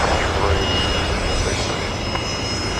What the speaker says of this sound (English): coming in from Melbourne, Qantas Link 1268s, the Bombardier C series